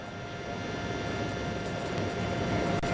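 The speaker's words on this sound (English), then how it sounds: "fighter jets, one would presume," Fighter jets fly overhead, giving a steady, continuous broadband roar that holds at an even loudness throughout, with no voices over it.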